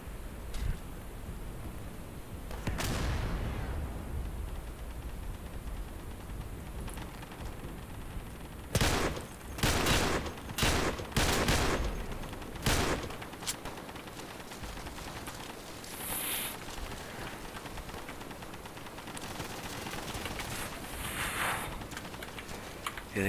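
Gunfire in the World War II shooter Day of Infamy: distant crackling battle noise with a cluster of sharp, loud close shots in quick succession midway, then quieter ambient firing.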